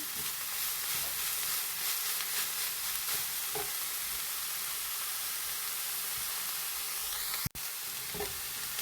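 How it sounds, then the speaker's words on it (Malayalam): Spinach leaves wilting in hot oil give a steady close sizzle and hiss throughout, with faint stirring clinks and one sharp knock near the end. "ഇനി എണ്ണയിൽ കടന്ന് നമ്മുടെ ചീരൻ്റെ ഇല ഒന്ന് വാടി വരട്ടെ"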